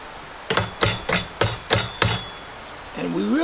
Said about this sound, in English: So I'll take a small ball-peen hammer here,